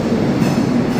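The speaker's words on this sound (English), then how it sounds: "Sounds like there's actually a train going overhead as we speak," A CSX freight train rumbles loudly overhead, a steady broadband roar of rail noise with faint clattering throughout, close and continuous with no talking.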